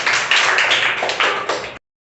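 A group of children claps together in a classroom, a quick close patter of hands lasting under two seconds before it stops abruptly.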